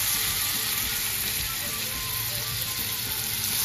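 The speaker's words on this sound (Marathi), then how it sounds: "यात मी बारीक चिरलेले टोमॅटो ॲड करते" Finely chopped tomatoes go into a sizzling onion-garlic masala for shak bhaji in a home kitchen, producing a loud, close, continuous frying hiss with faint bubbling and no speech.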